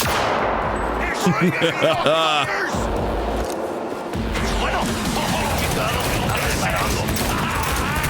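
Gunfire in a video game played on a Steam Deck, with a loud burst of shots and crashing impacts early on, then mechanical game noise while someone talks over it.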